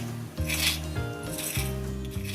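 A knife cutting through pan-seared salmon steak with crispy skin, giving a couple of brief crisp crackling cuts over a steady background hum, no talk.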